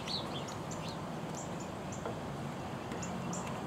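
Cardinals and house sparrows call at a birding spot by a water drip at Hazel Bazemore hawkwatch, faint short chirps and whistles scattered over a steady outdoor background hum.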